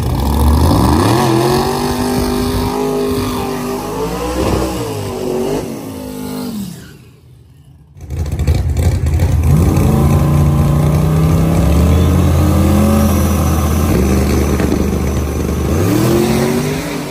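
A turbocharged 5.3-liter drag race car with a 91mm turbo launches in the small tire finals, its engine roaring loudly with rising and falling revs, briefly dipping quiet before surging again.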